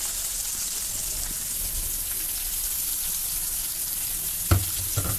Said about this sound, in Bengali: পেঁয়াজগুলোকে এখন আমি ব্রাউন কালার করে ভেজে নেব।